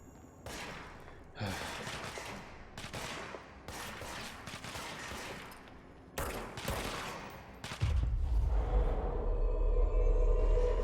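Repeated bursts of gunfire in the video game Control, with uneven volleys of shots a few seconds apart before a heavier rumbling barrage near the end, with no talk.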